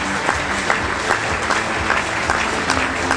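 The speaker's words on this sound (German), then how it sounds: "Applaus für Jakob Pferde." Audience applause after a riding badge award at a German event, a steady wash of many hands clapping with scattered sharper claps, continuous for about three seconds.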